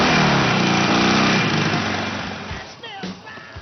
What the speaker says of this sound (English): the best bit is the sound that comes of the big V-twin 1200 cc 98 Newton meter engine